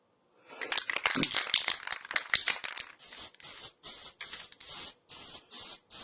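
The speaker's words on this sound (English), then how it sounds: "Just spray that on it like so" Aerosol finish sprayed onto a handmade wood sign: a few scattered clicks, then a run of steady hissing bursts separated by short pauses, close and fairly loud.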